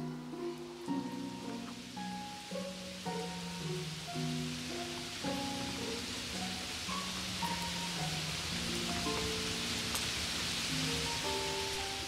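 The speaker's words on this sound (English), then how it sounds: "By late afternoon, it is pouring down rain." Heavy afternoon rain pouring down outdoors, a steady broadband hiss running the whole time beneath a gentle, prominent melody of sustained musical notes.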